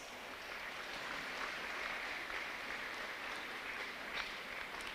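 At a senior school graduation ceremony, an audience gives sustained applause, a fairly faint, even wash of clapping heard from a distance without talking.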